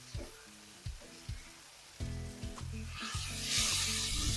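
Brinjal mezhukkupuratti stir-fries in a pan, the steady oil sizzle broken by a few distinct scrapes and stirring knocks, with the frying hiss growing louder toward the end.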